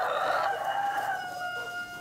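A chicken from a small flock of young egg-laying hens calls out in a drawn, crowing-like cry, one short tonal call fading over about two seconds, fairly faint with no talk.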